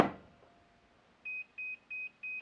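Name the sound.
battery charger beeping for bad battery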